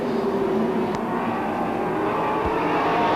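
Race cars circle a speedway oval at Star Speedway, their engines droning in a steady, loud blend with a brief higher whine as one passes. No one speaks.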